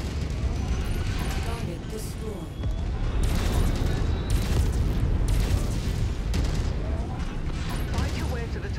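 Dense, continuous roar of explosions and heavy mechanical rumble in the MechWarrior 5 video game as fuel depots at a refinery are destroyed, loud and sustained with bursts layered throughout.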